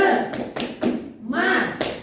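An audience of teachers in a meeting hall performs a rhythmic spirit clap, a few sharp grouped claps and thumps in a patterned beat, with voices chanting along.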